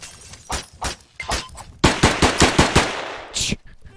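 Gunshots in the video game Of Guards and Thieves start as a few spaced cracks, then become a rapid, loud burst of about eight shots, and end with a shattering crash.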